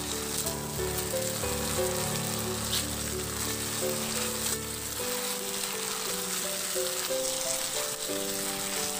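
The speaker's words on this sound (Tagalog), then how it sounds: "ituloy na rin ang paghalo hanggang sa talagang totally na mag-reduce yung tomato sauce na medyo matuyo talaga siya" Tomato sauce reduces in a pan while being stirred, giving a steady close sizzle and bubbling that runs throughout under melodic background music.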